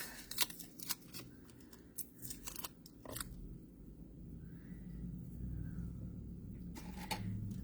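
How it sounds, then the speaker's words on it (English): A sticker's backing paper peels away in a run of crisp, close crackling tears and rustles, then a quieter stretch, with one last crinkle near the end. "Peel this off."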